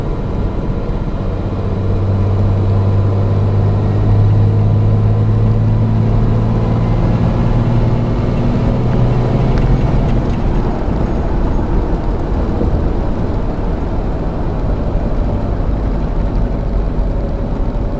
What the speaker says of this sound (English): Wide open throttle.